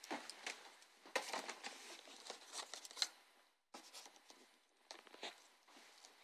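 Scissors cutting into a PlayStation 4 box, faint close snipping, scraping and tearing of cardboard and tape in irregular bursts with a brief pause midway.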